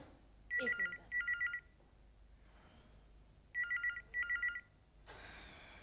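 A telephone bell rings in two paired bursts, a pause, then two more bursts, fairly loud against a quiet room, with a brief rustle at the end.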